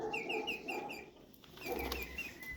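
Hens cluck in short repeated bursts close by, a quiet, irregular run of farmyard calls with soft background rustling and no one talking.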